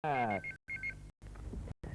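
Short electronic tones from a phone keypad beep in quick succession, a few separate presses, interrupted by brief silences.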